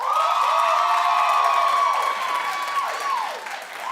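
A studio audience on a TV talk show claps and cheers for an R&B singer, with dense applause and scattered whoops that ease off toward the end.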